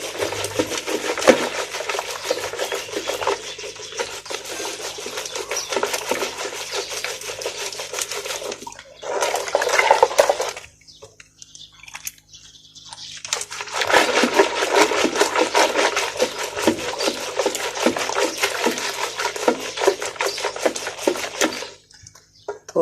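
Continuous rapid rubbing and swishing of a wooden churner working through thick pakora kadhi batter, close up, pausing briefly midway before resuming just as vigorously.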